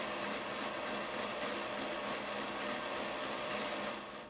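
An electric mixer whips egg whites at high speed as hot sugar syrup is added for a meringue, giving a steady, loud, continuous whir with no talking.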